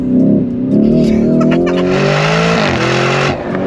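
A loud Lamborghini Urus Performante engine revs and accelerates, its pitch rising steadily and then dropping as it shifts, heard close from inside the car.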